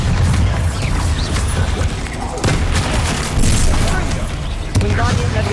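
Bombarda spell explosions in Hogwarts Legacy go off in a dense barrage of booms and crashing impacts, with a voice calling out through the chaos.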